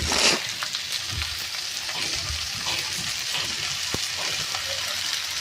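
Chopped onion and fenugreek leaves sauté in a pan at home, giving a steady close sizzle with scattered stirring scrapes and spatula clicks throughout, no voices.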